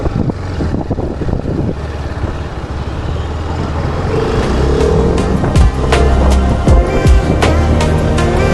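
A 2025 TVS Apache RR310 motorcycle engine revs and accelerates under the rider, its drone rising and swelling louder over several seconds with wind noise, close and continuous.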